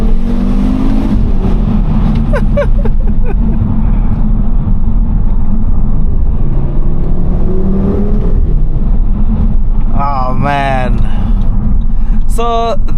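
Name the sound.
2014 Audi RSQ3 five-cylinder engine revving while driving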